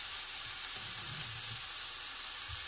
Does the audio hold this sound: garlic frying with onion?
yes